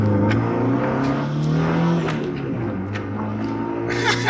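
A car engine drones steadily nearby, rising and falling as it revs close behind another vehicle on the road, with continuous mid-range engine noise throughout and no talk.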